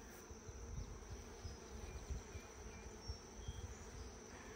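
Honey bees buzzing in a hive, a dense continuous drone of many insects close by, steady and loud throughout with no voices.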